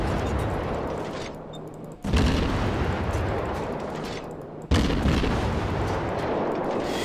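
Gearing destroyer guns fire in the World of Warships naval game, two loud booming salvos a few seconds apart, each a sharp blast trailing into a long rumbling roar.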